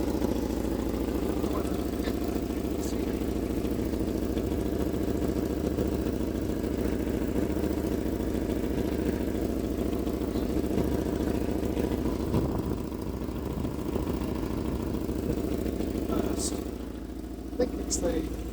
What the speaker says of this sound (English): that's the flange of the exhaust that's blowing